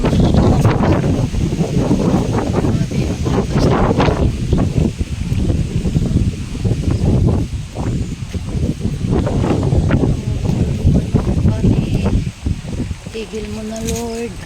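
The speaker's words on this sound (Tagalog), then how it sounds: "ang lakas ng hangin." Loud, steady wind buffeting the microphone in heavy rumbling gusts, with a voice faintly mixed in near the end.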